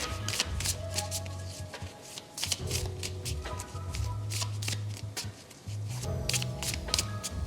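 Tarot cards are shuffled by hand in repeated riffling bursts, crisp fluttering slaps and snaps close up with brief pauses between rounds.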